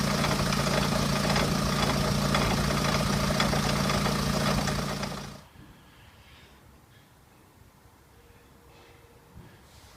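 A car engine runs steadily with one wheel spinning freely during an ABS wheel-speed sensor check on a wheel bearing, a loud constant drone that cuts away abruptly halfway through, leaving only faint low rumble.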